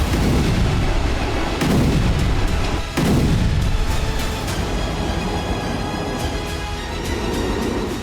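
Drone strikes on Russian energy sites set off a string of heavy explosions, with loud booms hitting one after another over a constant, thick rumbling roar.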